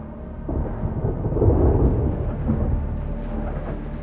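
Thunderstorm with rain: a deep, steady rumble of thunder that swells and holds over continuous rainfall, loud and close with no voices.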